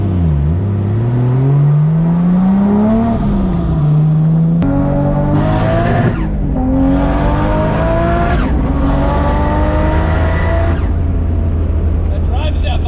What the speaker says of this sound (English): That drive shaft vibration.